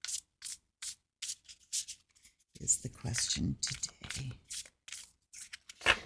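A deck of cards is shuffled and cut with quick, regular riffling bursts heard alone at first, then under a person talking.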